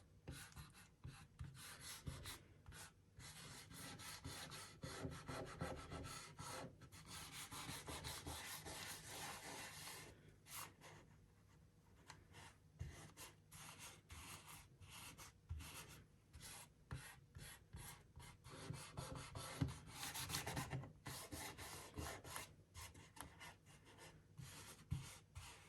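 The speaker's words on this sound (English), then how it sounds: "now I'm going to rub it into the wet paint" Paint inlay is rubbed by hand into wet paint on a wood surface, giving close, soft rasping strokes in a continuous uneven rhythm with short pauses.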